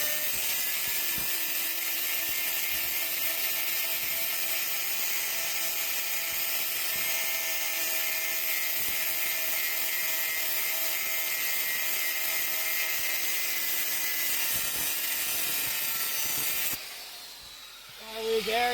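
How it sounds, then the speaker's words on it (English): Power tools working to remove old U-bolts give a steady, loud, continuous mechanical whine and hiss that runs for most of the clip, then cuts off near the end. "let's get the old power tools going"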